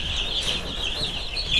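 Barred Rock chicks in a garage brooder peep in a steady, high, overlapping chorus that runs throughout, close by with no talking.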